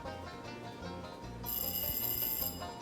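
A telephone rings with a steady, sustained electronic tone, faint and continuous, growing slightly louder partway through over a low background hum.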